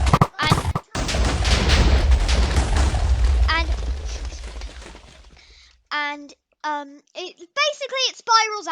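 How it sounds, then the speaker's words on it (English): Spiral TNT going off in the Minecraft Too Much TNT mod, heard as a dense run of booming blasts and crackling bursts for several seconds that fade out, followed by a voice talking. "Next is going to be spiral TNT. Tiny bit like the TNT firework, doesn't go up as high."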